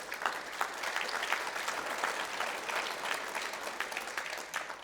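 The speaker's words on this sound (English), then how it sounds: "I think that deserves applause." Sustained audience applause at a mining-industry conference session in South Africa, dense steady clapping from a large crowd lasting about five seconds with no speech over it.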